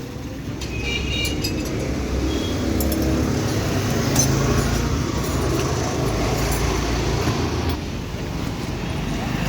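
An electric rickshaw on a test drive after fitting a new handle, T-shocker and front wheel, giving a continuous low rumbling road noise with faint rattles, steady and close for the whole stretch.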